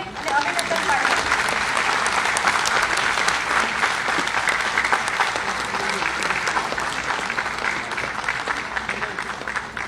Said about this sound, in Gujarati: તમામ અધિકારીઓને તાળીઓથી વધાવીએ અને અભિનંદન પાઠવીએ.